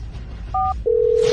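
Telephone keypad tones: a brief two-tone dial beep followed by a longer steady tone, close and clear over low background rumble.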